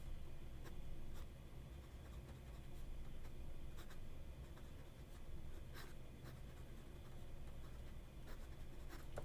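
A fountain pen nib scratching across paper, with a steady, faint, dry scratching that runs throughout and a few brief clicks of the pen.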